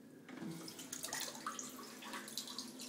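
A Japanese toilet's bidet shower sprays on its medium setting, a faint, steady hiss of water with small splashy flickers throughout.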